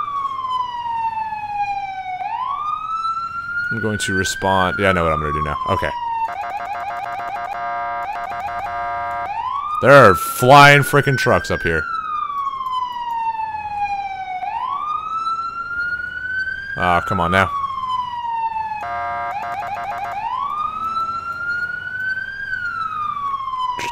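An emergency vehicle siren in the EmergeNYC video game cycles loudly between long wails and rapid yelping bursts over a steady engine drone, with someone talking now and then.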